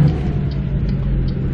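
Truck engine in American Truck Simulator, a steady low rumbling drone held close and loud, with faint higher revving traces as it climbs through the gears, and no voices.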